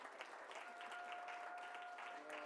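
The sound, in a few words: standing ovation applause for Moses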